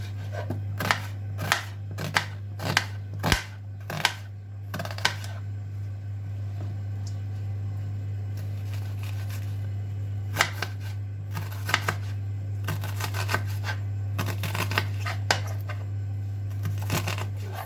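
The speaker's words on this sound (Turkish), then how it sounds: "Hemen soğanımızı doğrayalım." A knife chops through onion on a board in quick bursts of sharp, close taps, pausing between runs, over a low steady hum.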